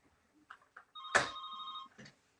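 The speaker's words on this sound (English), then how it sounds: "it's my fax machine ringing" A fax machine in an office rings with a single electronic trill, close and clear, amid faint background noises.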